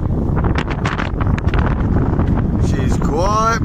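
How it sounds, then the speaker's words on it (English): Strong wind roars steadily across the microphone aboard a sailboat on a rough crossing from Rye to the Isle of Wight, a loud continuous rush with a brief rising whine near the end. "pretty bloody windy, as you can hear"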